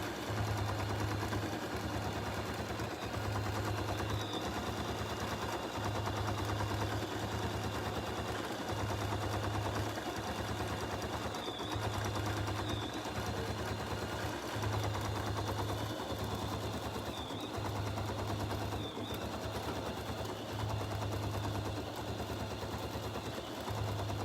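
A BERNINA 770QE embroidery sewing machine stitching a triple stitch, giving a steady, fast mechanical whir with a regular pulsing rhythm of needle strokes that runs continuously and fairly close throughout, with no talk.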